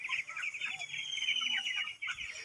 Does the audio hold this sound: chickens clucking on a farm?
yes